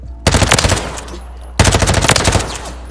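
An MP5 submachine gun fires in Call of Duty: Modern Warfare 3, heard as two loud, close, rapid automatic bursts, each lasting over a second, with a short pause between them.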